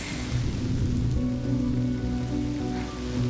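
Steady rain falls in the Honkai: Star Rail video game, a continuous dense patter with a low rumbling bed and no voices, loud and even throughout.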